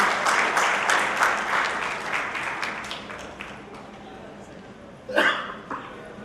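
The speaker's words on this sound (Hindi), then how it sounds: "मैं चाहूंगा एक बार जोरदार तालियां मालवाल सर जी के लिए" An Indore audience claps loudly for a senior guest at a gathering, the applause dense and strong at first, then thinning and fading, followed by a brief burst of movement and voices near the end.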